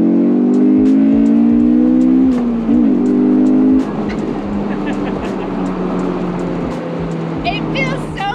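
A Honda VTEC engine accelerates hard, heard from inside the JDM car, the note climbing steadily through the revs before a shift and a steadier drone, with a voice talking over it.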